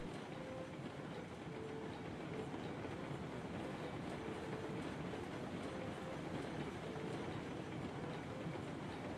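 A train rolls along steadily in a video game, a continuous low rumble with faint rhythmic clatter and no pauses, heard alone without talk.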